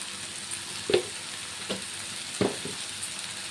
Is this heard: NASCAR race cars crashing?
no